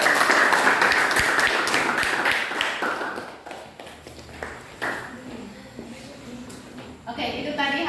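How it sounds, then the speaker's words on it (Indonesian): Classroom applause after a student group's presentation in an Indonesian language lesson, a dense patter of clapping that starts loud, thins out midway and swells again briefly near the end. "kasih tepuk tangan."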